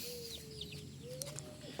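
Chickens clucking and calling close by, a few short squawks and a rising cluck over a steady farmyard hum, with no talk.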